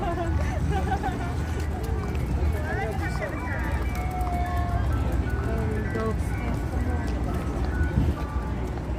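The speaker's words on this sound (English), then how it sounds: "Ice cream truck, that's right." An ice cream truck plays its jingle on a busy New York City street, the tune faint beneath traffic, crowd babble and a voice talking nearby.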